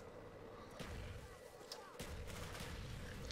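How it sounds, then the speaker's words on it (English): A grenade detonates in Call of Duty: Black Ops, a couple of dull thumping blasts layered with other battlefield gunfire, heard at a moderate distance over constant game noise. "Watch this pro grenade."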